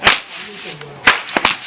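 Sharp whip cracks outdoors at a horse show in Hungary, one loud snap then a few quicker ones, crisp and close with quiet pauses between.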